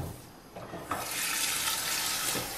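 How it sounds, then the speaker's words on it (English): Potatoes being washed under a running kitchen tap, a close, steady rush of water that swells to a full splashing flow after a brief softer start, with no voices. "One thing that is important for this recipe is to wash the potatoes really well."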